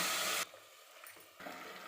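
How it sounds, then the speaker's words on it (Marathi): Water pours into a pan of frying Kolhapuri mutton, a brief loud splashing rush that cuts off, followed by quiet and then a softer sizzling hiss. "आता मी ह्याच्यामध्ये पाणी टाकते"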